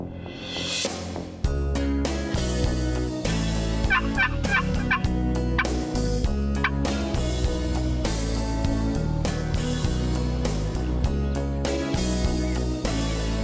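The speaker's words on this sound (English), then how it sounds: "Lots of gobbling toms and even a close call or two." Repeated wild turkey gobbles ring out, several toms answering one another at varying distances, loud bursts over a busy outdoor background, no talking.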